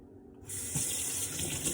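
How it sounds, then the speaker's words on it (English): Warm tap water gushes steadily into a sink during fabric dyeing, starting abruptly after a quiet moment and running loud and continuous with no talk. "Also going to turn the water back on to warm."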